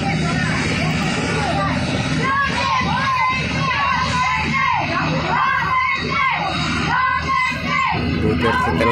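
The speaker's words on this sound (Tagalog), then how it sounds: "Duterte talagang sigaw." A large crowd shouts and chants for Duterte in a loud, continuous roar of voices and yells, with individual cries rising above the mass.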